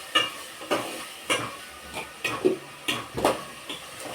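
Curry gravy sizzling in a pan as a spoon stirs it in a steady rhythm of scraping strokes, close and fairly quiet, with no talking.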